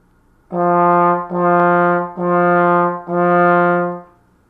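A trombone plays four long, sustained legato notes on the same pitch, each started softly with a 'do' syllable and no hard attack, clear and close.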